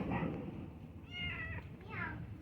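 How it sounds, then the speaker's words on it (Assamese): A cat meows twice in a domestic setting, each call a rising, drawn-out cry standing clearly over a steady background murmur, with a short gap between the two calls. "এই মেকুৰীটো ইমান ডিষ্টাৰ্ব দিয়ে"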